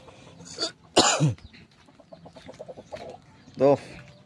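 A chicken clucks and croaks in short, raspy calls close by, mixed with coughing-like bursts and a person talking.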